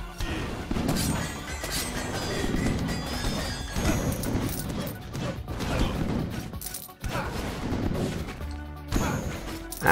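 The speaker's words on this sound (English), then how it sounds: "Bad horse. You're leaving fire all over the place." A horse enemy in the video game Rogue Legacy clatters through dense game audio, with hoof-like clops and crashes over a busy music-and-effects mix that keeps going the whole time.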